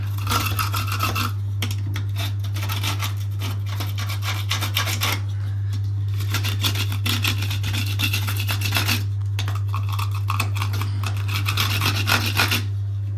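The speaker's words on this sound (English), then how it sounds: "I'm using this Silverline silicone scraper. It's basically a Stanley knife blade in there." A Silverline silicone scraper with a Stanley-knife-type blade scrapes old silicone sealant from a corner during plumbing repairs, giving close, steady rasping strokes in bursts with short pauses over a constant low mains-like hum.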